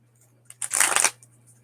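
Tarot cards riffle in one quick, soft shuffle lasting about half a second, close by in an otherwise quiet room.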